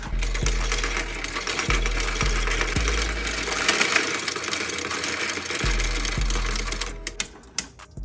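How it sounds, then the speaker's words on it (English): A Royal Sovereign Quick Sort budget coin sorter running on pennies, giving a loud, steady mechanical whirring and clattering with rhythmic low thumps, before it winds down near the end. "Definitely make sure the tube is in place before you start the machine."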